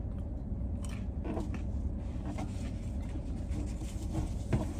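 McDonald's fries eaten close to the mic, with soft repeated chewing and biting sounds that continue steadily under a low background hum and no talk.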